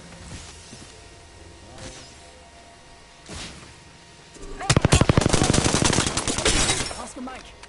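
Rapid automatic gunfire in a shooter video game: a few isolated shots, then a loud sustained machine-gun burst lasting several seconds, close and dominant.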